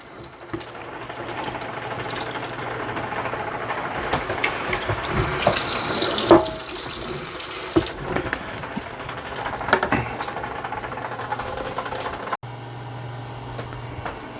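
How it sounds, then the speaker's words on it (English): Tap water runs into a sink while a cutting board is rinsed, a steady splashing hiss that shifts as the board moves under the stream and then tapers off. "And done. And wash the board off."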